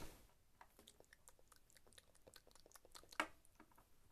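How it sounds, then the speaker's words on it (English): Faint, close chewing of chocolate: soft irregular mouth clicks and squishy bites in a quiet room, with one sharper crunch near the end. "I'm eating chocolate on camera."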